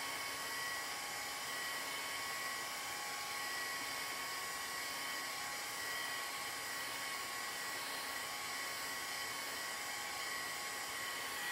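A hair dryer blows steadily to dry chalk paste on a board, a constant close whooshing hum with a faint high whine that holds unchanged throughout, with no talking over it.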